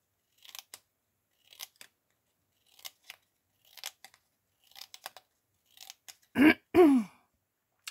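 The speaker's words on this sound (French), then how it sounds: "Me racler la gorge." A person clears their throat with two short, harsh, voiced bursts close by, following a steady run of faint, crisp scissor snips.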